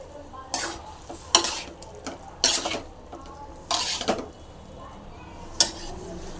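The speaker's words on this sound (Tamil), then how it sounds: "வேர்க்கடலை போட்டு நல்லா கலந்தாச்சுங்க" Powdered peanuts being stirred into a sweet pumpkin dish in a pan, with a utensil scraping and clinking in several separate bursts and a soft sizzle beneath, close and moderately loud.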